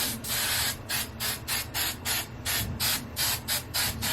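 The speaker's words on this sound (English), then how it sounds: "Then I'm gonna go in with my TRESemmé Extra Hold Hairspray." TRESemmé Extra Hold hairspray is sprayed onto hair in about ten quick short bursts, close and fairly loud, each a soft airy hiss in a steady rhythm.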